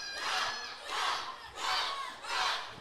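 A wrestling crowd at a Texoma Pro championship event chants in four loud, rhythmic rising-and-falling surges, many voices roaring together in an evenly spaced pattern.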